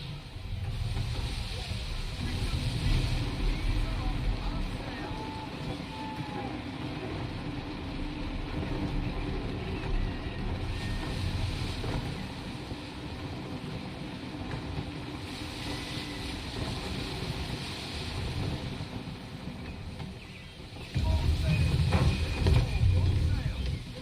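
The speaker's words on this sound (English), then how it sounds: "Gusty winds can be difficult to manage." Gusty wind rushes steadily past a sailing ship in Assassin's Creed III, a broad continuous roar that swells and surges, louder toward the end, with voices talking over it at times.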